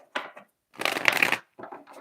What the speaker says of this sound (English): Let me just shuffle this once.